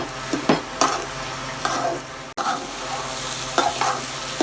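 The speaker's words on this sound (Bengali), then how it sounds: "এটাকে একটু ভাজা ভাজা করব।" Soaked red lentils fry and are stirred with dried loitta fish in a pan, giving a continuous close sizzle broken by repeated spatula scrapes and stirring knocks.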